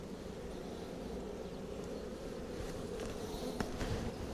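Honey bees in an opened hive, calmed with a smoker, give a steady low hum that keeps up without a break throughout, with a few faint knocks and handling sounds near the end.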